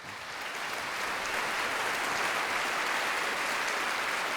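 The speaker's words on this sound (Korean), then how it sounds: "한번 박수를 한번 쳐보세요" An audience at a cultural festival event breaks into sustained applause, a dense wash of many hands clapping that builds and holds steady without pause.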